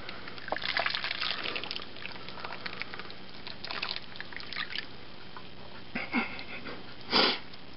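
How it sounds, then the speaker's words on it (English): Jerk chicken marinade poured over chicken, soft wet trickles and drips in short bursts with a small splash near the end, close and fairly quiet. "I'm just going to pour this over and cover it overnight"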